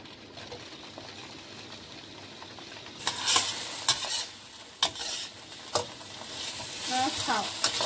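Food is stir-fried in a pan: a soft sizzle runs under sharp, irregular scraping strokes of a spatula, growing busier toward the end.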